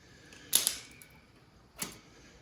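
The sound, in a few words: scissors cutting off the end of a strap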